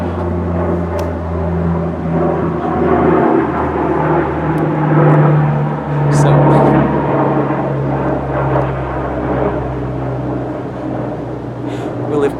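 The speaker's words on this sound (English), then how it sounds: "An airplane's coming, I'm sorry." A propeller airplane passes overhead near homes by several airports, its low steady drone swelling and fading gradually while a person talks continuously over it.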